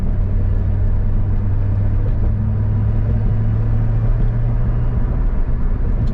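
A car with a twin disc clutch downshifting, heard as a steady, fairly loud engine rumble and road drone from inside, with no clearly separate gear changes.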